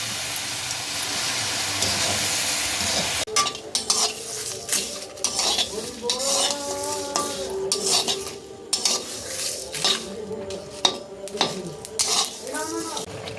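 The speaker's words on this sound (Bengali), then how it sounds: "দেখছো চিনিগুলো কেমন গলে গিয়েছে কেমন ফুটছে" Sugar syrup for raw mango pickle bubbles and sizzles in a pot over a high flame as a spoon stirs and clinks against the metal, with a voice speaking intermittently over the cooking.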